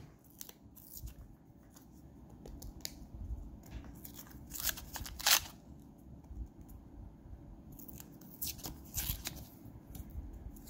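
Paper wrapping torn and crinkled off a roll of quarters from a bank box, close-up rustling and tearing with a few sharper crackles over a low steady background hum.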